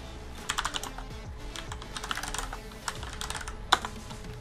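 Terminal commands being typed on a computer keyboard, quick irregular clicks and key taps in close, quiet bursts, with a louder keystroke near the end and no talking.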